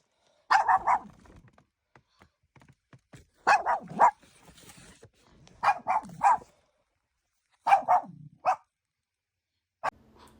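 A dog indoors barks in short bursts of two or three sharp yaps, separated by quiet pauses, fairly close and loud, with one final single bark near the end and no talking.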